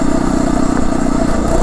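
A Phatmoto motorized bike on a gravel back road, its small engine buzzing steadily and close with a dense rattling clatter from the loose surface throughout.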